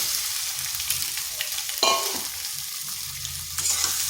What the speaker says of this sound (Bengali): পটলগুলো ভালোভাবে মশলার সাথে মিশিয়ে নিচ্ছি